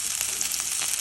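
Food frying in oil over a low flame gives a steady, close, bright sizzling hiss with faint stirring ticks, heard alone without any voices.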